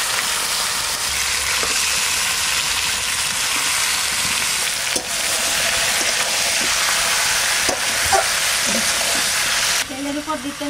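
Dried red chillies and cumin seeds hissing and sizzling in hot oil in a kadai over a stove, a dense continuous frying hiss close up, with a few faint clinks near the end.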